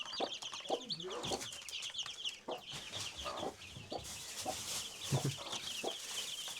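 Chickens clucking close by in a coop with chicks around, repeated soft clucks and short calls over a constant high chirping of chicks, no talking.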